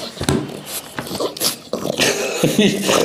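A dog standing on a table whimpers and yips in short, close bursts, its uneasy whines broken up by brief louder cries, with a voice murmuring faintly in between.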